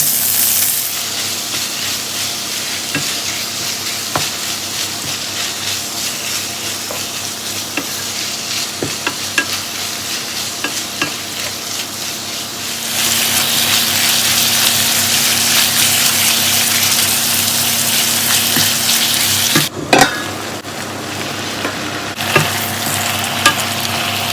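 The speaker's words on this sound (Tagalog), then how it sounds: "Haluin natin ulit ang ating nilulutong simpleng ulam." A simple dark green zucchini dish sizzles and fries in a pan, with a steady loud hiss throughout and a few scraping stirs and clinks now and then.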